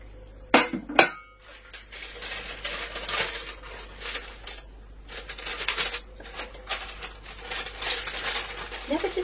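Metal cake pans handled and set down on a kitchen counter, two sharp clanks near the start followed by lighter clinks and scraping, close by, with occasional talk.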